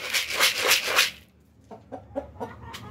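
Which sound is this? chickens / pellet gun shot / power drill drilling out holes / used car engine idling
chickens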